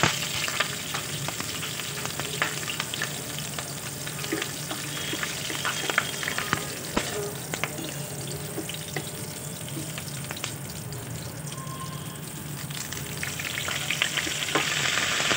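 Mustard seeds, cumin, dried red chillies and green chillies frying in hot oil, a dense, continuous crackling sizzle with scattered pops, close and steady throughout with no talk.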